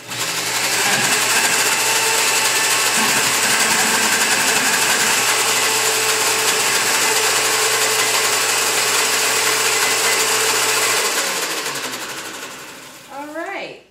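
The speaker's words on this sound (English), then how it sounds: "that's why I'm demonstrating this on a regular blender" A regular blender making raw chocolate pudding gives a loud, steady motor whir for about eleven seconds, then winds down, followed by a brief clatter at the end.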